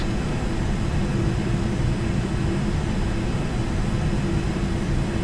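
Airplane engine drone inside the Air Hauler flight simulator game, a steady loud broadband roar with a low hum underneath, constant throughout with no speech.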